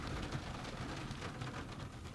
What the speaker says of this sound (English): I don't know if you could hear the rain just started on the roof.